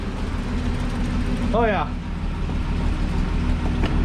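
A 1961 Ford Falcon Delivery, its exhaust recently quieted, idles at the tailpipe with a steady low rumble close by, while a brief voice speaks over it midway.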